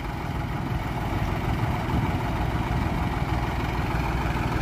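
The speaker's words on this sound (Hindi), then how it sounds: "अब देखियो भाई लिकड़ता हुआ ट्रैक्टर" A Swaraj 735 FE turbo tractor pulls away, its diesel engine running as a steady, close low rumble and throb that holds at an even loudness throughout, with no talk over it.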